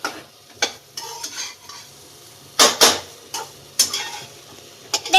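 Rice frying in a pan, with a soft background sizzle broken by close, sharp spatula scrapes and clinks against the pan in uneven bursts. No one talks.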